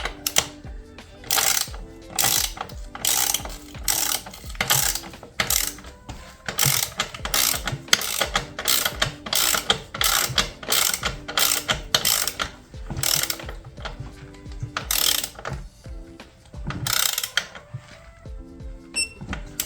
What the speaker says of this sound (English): That's the axle nut tightened.